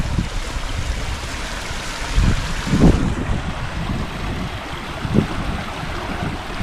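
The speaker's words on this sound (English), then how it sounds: "And listen to that water." Mountain stream water rushing at a campsite near Hurricane Gap, a continuous close broadband wash with a few louder splashes, steady throughout with no talking.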